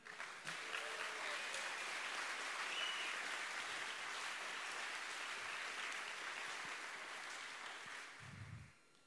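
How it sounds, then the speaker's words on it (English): Sustained applause from a hacker conference audience after a lock picking talk, dense clapping held at an even level for several seconds before tapering off and stopping near the end. "So applause for the Dutch police."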